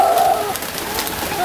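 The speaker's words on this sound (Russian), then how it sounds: "смотри, Максим, сколько там голубей сидит." Pigeons cooing close by on an old-town street in Lviv, a soft low warbling coo repeated a couple of times in a short burst with no talk.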